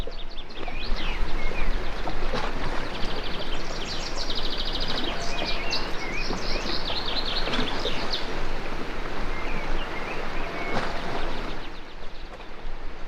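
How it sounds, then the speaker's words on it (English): Birds sing and chirp steadily from the shore of a bay in southwest Turkey, heard from the back of an anchored sailboat, with water lapping softly beneath the busy calls for the whole stretch. "Singing birds and the water lapping up on the shore."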